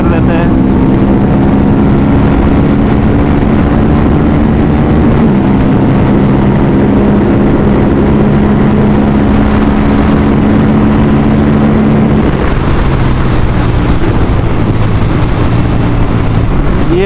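A fully modified Aprilia RS457 motorcycle accelerates hard along an empty road, its loud, close engine droning steadily and rising in pitch, with two clear gear shifts partway through.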